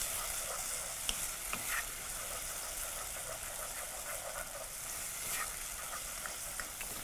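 Garlic frying in a pan gives off a steady, moderately quiet sizzle, broken by occasional clicks and scrapes of stirring as it cooks for jeera rice with black lentils.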